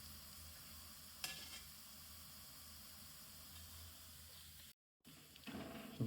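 Dudhi thepla flatbread roasts on a hot griddle in a village-style kitchen, a steady, faint sizzling hiss with a light scrape or flip partway through and a brief dropout near the end.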